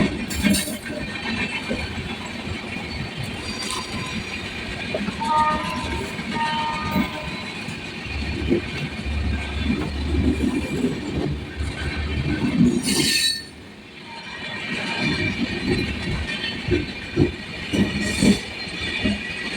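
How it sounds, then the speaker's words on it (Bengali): An express train rushes past on the main line near Howrah, its loud rumble and clatter mixed with squealing wheels and brief sharp hisses. The sound briefly drops away before rising again. "মেন লাইন দিয়ে বেরিয়ে যাচ্ছে এক্সপ্রেস ট্রেন"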